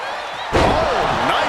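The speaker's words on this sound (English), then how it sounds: "Uh-oh, look out. Double leg drop." A double leg drop slam in the WWE 2K25 video game, Bayley vs. Sol Ruca match: a single loud, close impact thud that cuts in abruptly partway through, followed by a lingering crowd roar.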